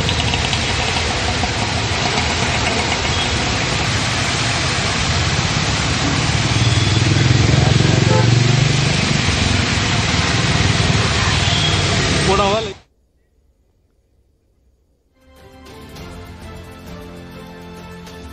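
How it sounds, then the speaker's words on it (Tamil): Moderate rain falls on a city street in Pondy Bazaar, Chennai, with a loud continuous wash of water and traffic noise, engines idling and passing, then it cuts off into near silence before faint sounds return near the end. "சென்னை பாண்டிபஜாரில் மிதமான மழை பெய்து வருகிறது."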